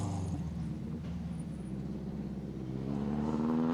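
A Subaru World Rally Team car in the 2006 WRC season crawls away in second gear after trouble, its engine a steady, close, low droning rumble that swells slightly toward the end.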